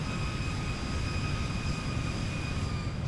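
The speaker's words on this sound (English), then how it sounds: "engine sounds cool" Zibo Boeing 737 cargo jet in the X-Plane 12 flight simulator, its engines giving a loud, steady drone with a constant whine on top, unbroken throughout with no talking.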